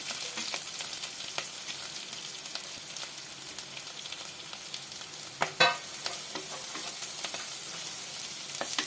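Steady sizzling of grated carrot frying in a pan, a continuous crackling hiss with occasional louder pops and a brief stirring clatter midway.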